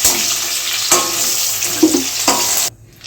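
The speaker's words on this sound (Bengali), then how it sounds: "এখানে পটলগুলো ভাজার জন্য দিয়ে দিচ্ছি। লাল লাল করে কড়া করে ভাজতে হবে।" Pointed gourd pieces sizzle steadily as they fry in hot oil, loud and close, with a few sharp stirring knocks before the sound drops off abruptly near the end.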